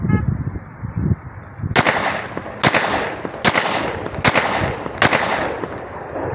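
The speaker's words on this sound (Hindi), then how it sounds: "इसके ऊपर हम टेस्ट फायर करते हैं, आप चेक कर लें" A hard-chrome 9mm Beretta 92FS pistol is test fired. Five loud, sharp shots ring out one by one at a steady pace of roughly one shot every second, each with a brief echoing tail.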